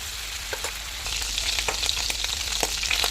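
Shrimp fry in hot oil with a steady, crackling sizzle, punctuated by occasional stirring scrapes; the hiss grows louder and denser partway through.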